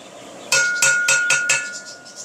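A metal biryani degh clinks five times in quick, evenly spaced strikes, each ringing briefly. The sound is close and bright, then fades into a softer tail. No one speaks.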